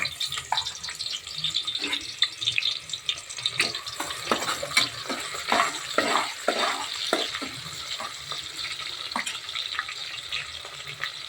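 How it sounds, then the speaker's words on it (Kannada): Onions frying in a pan for vegetable pulao, a soft continuous sizzle broken by repeated sharp scrapes and clinks of stirring, fairly quiet and close, with no talk. "ಈರುಳ್ಳಿ ಹಾಕಿದ್ದೀನಿ ಸೊ ಫ್ರೈ ಆಗಲಿ ಇದು ಚೆನ್ನಾಗಿ"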